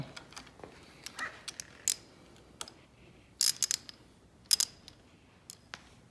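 Barkbusters VPS handguard clamp bolts are tightened on a motorcycle handlebar, heard as quiet scattered tool clicks and a few short bursts of sharp ratcheting in close range, with near silence in between.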